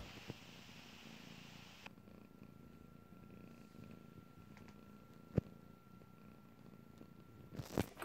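Small cat lying at home purring softly and continuously, a low steady rumble with a faint tone and a couple of sharp knocks toward the end.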